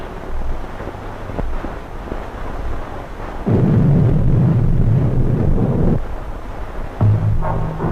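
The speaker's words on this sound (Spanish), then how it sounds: "Tras el estruendo que ha sacudido las entrañas de la tierra, la roca cede, se fractura y afloja" Dynamite blast in a rock tunnel being excavated for Mexico City's deep drainage system: a heavy, deep rumbling roar swells up suddenly and sustains for a few seconds before easing back into a lower ongoing rumble.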